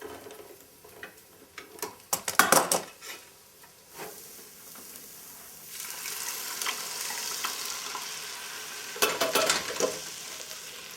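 Kielbasa Polish sausage frying in a pan, a soft continuous sizzle broken by clustered clatters and scrapes of turning the links, with the sizzle growing fuller midway and another burst of utensil clicks near the end.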